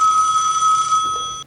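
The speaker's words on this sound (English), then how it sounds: "with my phone ringing" A phone rings with a single sustained electronic ring tone, loud and close, lasting over a second before cutting off abruptly.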